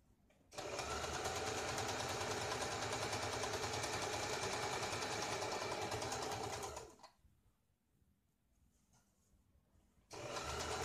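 A sewing machine runs steadily, stitching along a strip on a blouse, loud and close for about six seconds before stopping, then starting again near the end.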